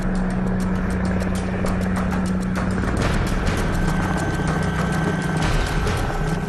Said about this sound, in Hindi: चीता हेलीकॉप्टर एक बार फिर उड़ान भरता है।